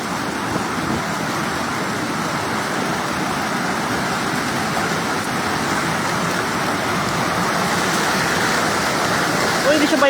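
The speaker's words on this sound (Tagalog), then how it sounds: "Oh, lakas ang agos" Sprite Falls in the Philippines, a waterfall with a strong current, heard as a constant loud broadband rush of water, steady throughout with no pauses.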